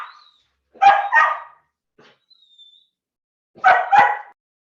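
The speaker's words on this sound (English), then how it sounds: "Sorry about my dog barking." A dog barks in two quick pairs of sharp, close barks separated by silence, with a faint whine in between, indoors during an online meeting.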